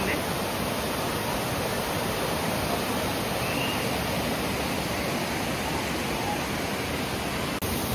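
Kasipatnam waterfall in Visakhapatnam pours steadily as a dense, loud, unbroken rushing roar of falling water, heard from close by.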